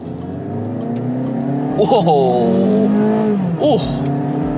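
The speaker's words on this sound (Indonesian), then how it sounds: "Ini sih bener-bener mesin teriak Sobat Setir." A 2024 Mazda 2 hatchback engine roars and climbs in pitch under hard acceleration, dropping briefly at two gear shifts, with a voice talking along.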